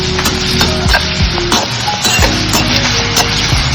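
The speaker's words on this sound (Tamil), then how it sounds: "போட்டு நல்லா வதக்கிக்கலாம்" Food fries and sizzles in a pan while being sautéed, a loud, close, continuous sizzle with clattering spatula scrapes and knocks breaking in irregularly throughout.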